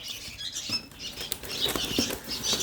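Eight young bulbul chicks flutter and scrabble inside a cardboard box, with soft wing flaps, pattering scratches and faint high peeps, close by.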